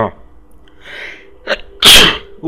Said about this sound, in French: J'éternue plutôt.